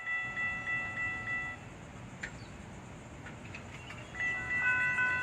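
A Florida East Coast (FEC) freight train, number 109, passes the Yamato Road crossing, with a steady rumble of rail cars rolling by and repeated warning bell tones at the start and end.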